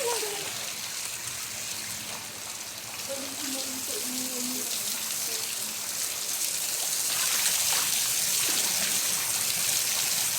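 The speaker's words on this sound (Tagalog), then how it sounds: "Oh, ayan, magsha-shower kami" Steady running water hisses throughout, like a shower spraying, at a beach resort in Lemery, Batangas, with faint voices in the background.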